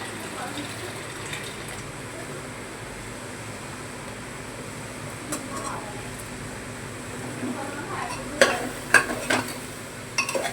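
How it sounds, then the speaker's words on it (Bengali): Chicken coated in onion paste being stirred and fried in a pan, a soft continuous sizzle with occasional scraping of the spoon, growing a little louder with sharper clinks near the end. "নিয়ে 2 মিনিট নাড়াচাড়া করে ভেজে নেব"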